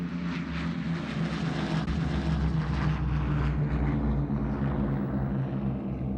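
A propeller airplane drones low over the Arctic in cold, windy conditions, a loud, steady engine roar that stays close throughout and eases off slightly toward the end.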